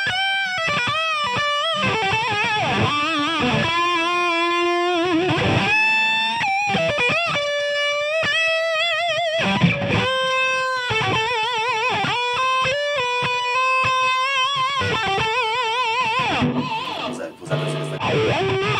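An electric guitar plays through a boosted distortion channel with a preamp and a G-Lab GSC2 controller, giving loud, saturated lead lines and bends that sustain over nearly twenty seconds.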